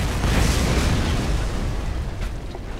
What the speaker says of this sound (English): I heard that blast all the way over here!